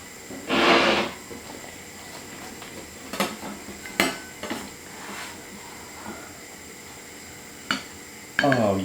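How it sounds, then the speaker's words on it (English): A knife cuts into a minced beef and onion pie, starting with one loud crisp crunch through the pastry, then scattered clinks and scrapes of cutlery against a dish, with a final knock at the end. "let's cut the pie open and see what's what"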